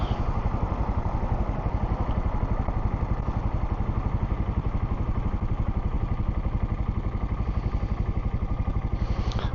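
A Suzuki TU250X single-cylinder motorcycle runs steadily on a cold-morning commute, its engine thumping in an even, rapid pulse heard up close from the rider's position, with wind rush and no talking.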